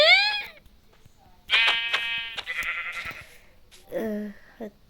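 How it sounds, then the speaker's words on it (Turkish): Several Minecraft sheep bleats sound in short bursts, clear and close, separated by quiet gaps; a game sheep call repeated a few times. "koyunu öldürmeye çalışıyorum"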